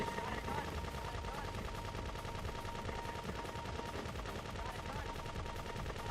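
Rapid, continuous gunfire rattles in a GTA V Online killer frenzy on Xbox: a dense, unbroken stream of shots, faint and somewhat distant throughout.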